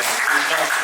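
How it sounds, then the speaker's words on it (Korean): Audience applause at a gathering on small business owners and the self-employed, a short dense burst of clapping at close, even loudness. "박수 한번 부탁드리겠습니다."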